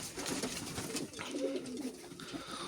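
Young Danish and Modena fancy pigeons in a loft in Bulgaria make soft, close, steady cooing, with low throaty calls overlapping throughout and a faint rustle behind them, while no one speaks.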